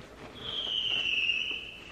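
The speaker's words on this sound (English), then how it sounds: "We have our bedroom window open, so that's why you can hear all the fireworks." Fireworks outside carry in through an open bedroom window during the 4th of July weekend, a faint whistling rise with soft distant pops under quiet room noise.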